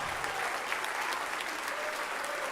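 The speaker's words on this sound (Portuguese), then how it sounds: "Vem para cá e vamos aplaudir o Senhor Jesus por cada vida" Church congregation applauding in praise of Jesus during a Portuguese-language service, a dense, steady wash of many hands clapping that fills the whole stretch at even loudness, close and sustained.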